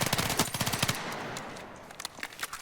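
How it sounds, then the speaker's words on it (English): A submachine gun in Battlefield 6 fires a quick run of rapid, evenly spaced shots, then falls to a fading echo before a few scattered taps resume at the end. "If you start tap firing, I hope you can see it."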